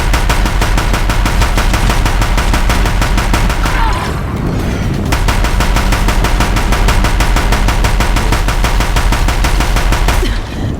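Deathbringer machine guns in Horizon Zero Dawn pound out sustained rapid fire, loud and dense for nearly the whole stretch, with a brief lull in the middle before the barrage resumes.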